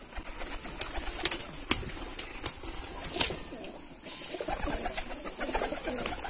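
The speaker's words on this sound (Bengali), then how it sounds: "সব সুস্থ কবুতর।" Many Giribaz pigeons coo and call at a Rajshahi pigeon farm, close and busy, with scattered sharp clicks and a brief flutter of wings among the steady murmur of the flock.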